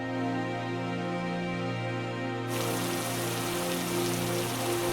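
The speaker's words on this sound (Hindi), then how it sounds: "मूसलाधार बारिश" Torrential monsoon rain pours down in a loud, steady wash of noise that builds partway through, with a sustained tonal drone underneath and no voices.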